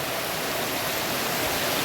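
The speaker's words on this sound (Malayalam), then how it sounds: "വെള്ളം അങ്ങനെ പെയ്യുന്നുണ്ട് മഴ" Heavy monsoon rain pours down steadily with rushing water from a blocked drain overflowing up the steps into a yard in Perinthalmanna, a dense, constant roar close by with no voices.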